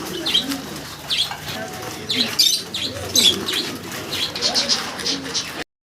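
Pigeons, including American Lakha, coo in low, throaty burbles, joined by scattered high chirps and an occasional flutter of wings, fairly close and continuous.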